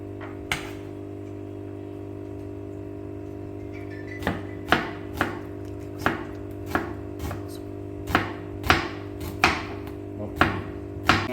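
Onions sliced thin with a knife on a cutting board: about a dozen crisp, close chops, sparse at first and then coming in an uneven steady rhythm over a faint background hum.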